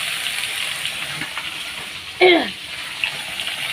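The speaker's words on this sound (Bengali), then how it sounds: "এই যে আগে আমি এটা ভেজে নিলাম একটু লাল লাল করে ভেজে নেব" Potatoes, radish and eggplant frying in oil in a home kitchen give a steady, bright hiss throughout, broken by a brief voice-like squeal partway through.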